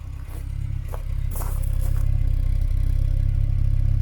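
A Peugeot 204 engine idles and runs with a steady, throbbing low rumble from close by during a drive, the regular pulse briefly faltering early on amid light rattles and scrapes, no talk.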